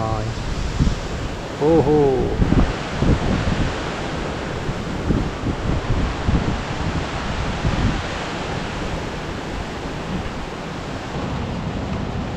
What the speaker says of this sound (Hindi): बारिश के बाद अभी चल रहे तेज हवाएं, देखो बाहर पे पेड़ पूरे हिल रहे हैं